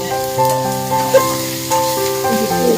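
Onions, cumin seeds and ginger pieces sizzle in hot oil in a kadai on a stove, a steady close crackle with soft tonal clinks as the pan is worked, no voices.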